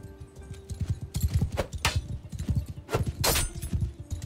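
Horse hooves gallop in Mount & Blade II: Bannerlord, a quick irregular clip-clop of several strikes in bursts, mixed with sharp clashing impacts, moderately close.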